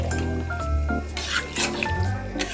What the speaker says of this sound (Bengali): এবার শুধু এটা দেখো কষানো হচ্ছে এখনো